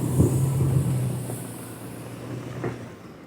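A 2014 Fiat Punto reversing on a rough, potholed road, its low engine drone close and steady with a brief rumble near the start, fading slightly toward the end.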